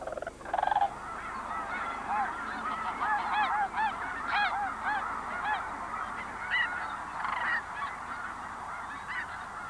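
Cranes in flight give repeated honking, trumpeting calls from a loose flock, overlapping and carrying over a steady outdoor background.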